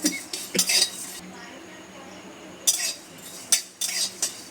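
A spoon scrapes and clinks against a pan as whole spices for a paneer dish are dry-roasted, in several short, close bursts of stirring separated by quieter pauses.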